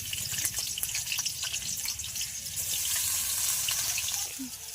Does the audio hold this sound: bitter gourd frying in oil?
yes